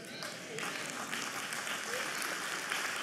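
Steady applause from a church congregation, continuous and moderately loud throughout, with no voices standing out.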